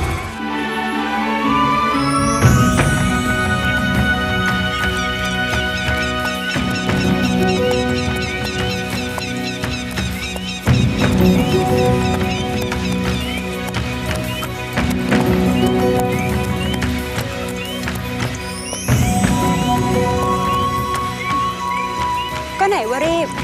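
A horse gallops with a continuous clip-clop of hooves and several loud whinnies and neighs, close and prominent, layered with dramatic music in a Thai period drama scene.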